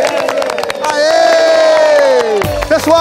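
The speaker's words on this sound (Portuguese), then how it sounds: "Palmas para ele, gente!" Audience at a mining game show cheering loudly, with a sustained shouted whoop that rises and falls over a crowd, then a sudden drop into a low thump near the end.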